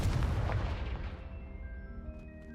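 A Confringo spell blast in the Hogwarts Legacy video game lands as a deep, booming explosion that decays into a lingering shimmering ring of tonal, magical chimes.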